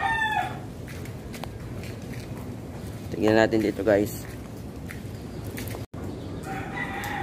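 A rooster crows twice in quick succession, mid-distance, over a steady outdoor background while someone talks nearby.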